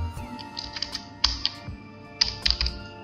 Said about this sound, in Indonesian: bisa langsung kita ketik di sini